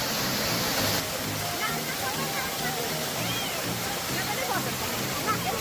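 Kattuppara main waterfall roars in a steady, loud wash of rushing water heard up close, with faint voices partly buried beneath the constant flow.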